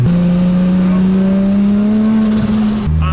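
A V8-swapped Mazda Miata with an LS engine holds a loud, steady rev that sputters and breaks up near the end as the throttle cuts, close and alone with no talk.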